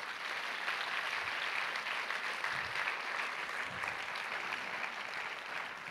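An audience at the opening ceremony of the FFFH 2022 film festival claps warmly, a dense and even round of applause that carries steadily for several seconds without voices.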